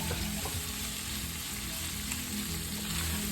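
Pork sautéing over medium heat in a pan, a continuous close sizzle and crackle with occasional stirring, no voices.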